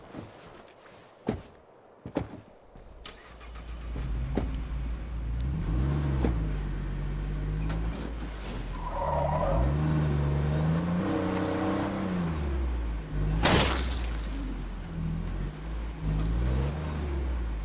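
A car engine in State of Decay 2 hums low and steady while the vehicle drives, with sharp clunks and thumps early on and a loud burst near the middle.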